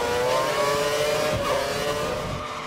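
A racing car in a racing video game at a Hungarian circuit oversteers and strikes the safety barrier. Its loud, continuous engine drone carries low thuds through it, and no one speaks.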